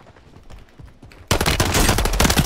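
Rapid bursts of muffled, suppressed pistol gunshots in Call of Duty: Warzone, quiet and sparse at first, then a loud, dense volley in the second half.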